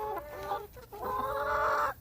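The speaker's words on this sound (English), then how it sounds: "Roosty the Rooster." Chickens clucking close by in a backyard flock with a rooster, steady overlapping clucks and calls filling nearly the whole stretch with one short lull in the middle, no talk.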